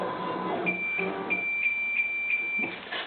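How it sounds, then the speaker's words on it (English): An EC17 excavator gives a series of high, evenly spaced electronic beeps, about six in a row, at the end of an adjustment, steady and moderately loud against a low background rumble. "it'll start beeping like that"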